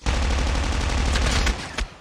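Rapid automatic gunfire from a weapon in Call of Duty Mobile, a loud, close, continuous stream of shots that stops abruptly, followed by one short final burst.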